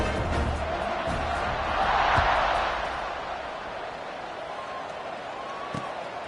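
A large college football stadium crowd roars in a broad, steady wash of noise that swells briefly, then settles into a continuous distant murmur.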